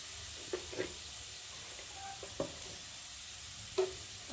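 Pointed gourd sautéing in a pan with salt, turmeric, cumin paste, ginger and tomato, a soft steady sizzle broken by a few scraping stirs of a spatula against the pan.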